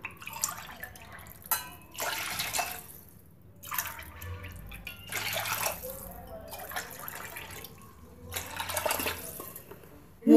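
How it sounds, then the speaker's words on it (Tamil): Water is poured into a urad dal porridge flour mix in a home kitchen, a splashing trickle that comes in several separate bursts with quiet gaps between them. "இப்போ தண்ணி ஊற்றிக்கலாம்."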